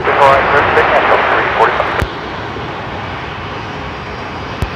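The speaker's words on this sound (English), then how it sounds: "Delta 345, runway 34 right, clear for takeoff." A Delta jet airliner at Seattle-Tacoma International Airport, heard as a broad, steady engine roar from runway 34 right. It holds loud for about two seconds and then drops to a lower, constant rumble, with radio voices over it.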